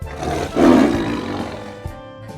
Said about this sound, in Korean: 씩씩하고 귀여운 아기 호랑이. 같이 놀자고 어흥! 배고프다고 어흥!